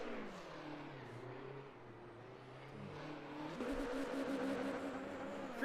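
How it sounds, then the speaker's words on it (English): A race car in the sim racing game Le Mans Ultimate, in a league event at Sebring, doing burnouts and donuts, its engine droning and revving higher, steady and fairly faint, building toward the end. "Here's some good burnout by Ponset."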